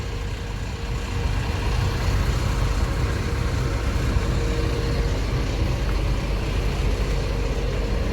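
A Jetbus HD coach engine runs steadily at a busy bus depot in Palembang, a constant low diesel rumble and idle that holds at an even loudness throughout, with no talk over it.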